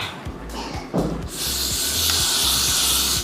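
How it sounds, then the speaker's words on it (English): A can of Got To Be hair spray hisses in a steady, continuous burst lasting a couple of seconds, close up, after a brief clatter. "Let me go in with Got To Be spray."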